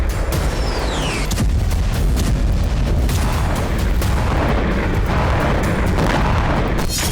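Bombardment and artillery fire in Kursk during the Russia-Ukraine war: loud, dense rumbling with repeated sharp blasts and cracks over a continuous heavy roar, close and intense, with no speech.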